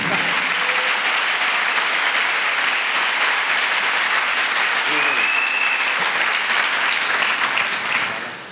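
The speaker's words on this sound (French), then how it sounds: "Clap for Jesus Christ." Congregation applauding at a church service, a steady dense wash of many hands clapping together that holds at full level for about eight seconds before tapering slightly at the end.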